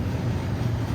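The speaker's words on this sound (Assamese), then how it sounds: "এইয়া ওপৰেৰে ট্ৰেইন গৈ আছে" Deep, steady rumble of a heavy train rolling close by overhead on a bridge, heard from beneath it, a continuous low roar with no voices.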